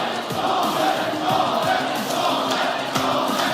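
A crowd of Totem fans cheering at the Brawl Stars World Finals 2024, a steady roar of many voices filling an arena, with repeated rhythmic shouts rising and falling throughout.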